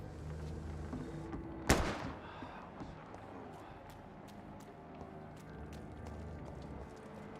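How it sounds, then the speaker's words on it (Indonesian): A single sharp gunshot cracks out over a low, steady rumble in the video game Vampyr, followed by quieter background noise and faint rhythmic taps. "Ada tembakan."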